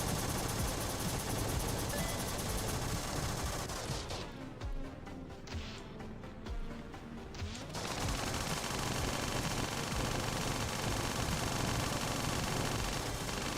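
Turret gunfire in a twin-stick shooter video game, a loud, unbroken barrage of rapid shots with a dense noisy wash that dips briefly midway before the heavy firing resumes, with no talking.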